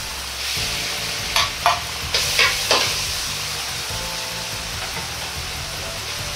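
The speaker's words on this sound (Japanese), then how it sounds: "全体的に油が回ったら豆腐ミートを入れて炒めます" Crumbled frozen-tofu mince stir-fried in hot oil in a pan, a steady close sizzle broken by a few sharp scraping stirs early on, with no voices.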